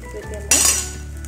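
A lid clanks down onto a cooking pot while baby food simmers inside, one sharp bright metallic clink followed by a short ringing decay, close by over a steady low kitchen hum.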